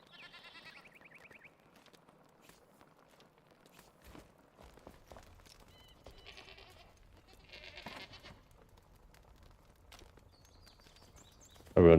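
Goats bleating in the video game Enshrouded, a few short separate calls near the start and again around the middle, over quiet game ambience with soft footsteps and a loud burst at the very end.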